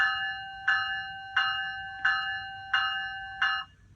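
Five evenly spaced bell rings from a Bachmann model train, each a bright metallic clang with a short ringing decay, over a low background rumble.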